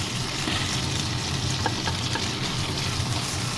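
Onions and garlic fry in hot oil for igado, a continuous dense crackling sizzle with faint stirring scrapes, close and steady, no voices.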